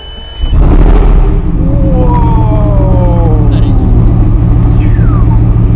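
A Bugatti world-record prototype engine fires up at close range, jumping into a loud, steady rumbling idle with a rising whine layered over it.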